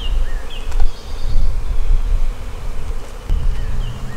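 A dense, steady buzz of many honey bees at an open hive fills the air close by, with a low rumble of wind or handling underneath and a few brief knocks.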